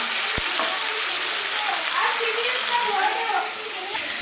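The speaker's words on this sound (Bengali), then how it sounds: "মাংসটা দিয়ে দিলাম তেলের মধ্যে বেশি নাড়াচাড়া করে নেব" Meat sizzling in hot oil in a wok, a steady crackling fry that runs throughout with brief clinks of a utensil stirring it.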